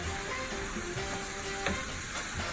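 Pork meat and bones frying in a pot for Puerto Rican pasteles filling, giving a continuous loud sizzle with occasional stirring clatter.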